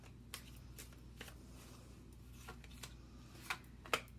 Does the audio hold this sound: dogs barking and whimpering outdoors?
no